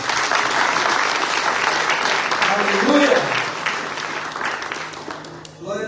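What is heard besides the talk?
church congregation applause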